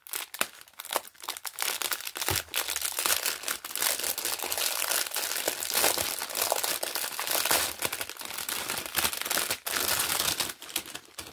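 Plastic packets of diamond painting beads being opened, with dense, continuous crinkling and tearing of thin plastic close up, broken by brief sharp crackles and no talking.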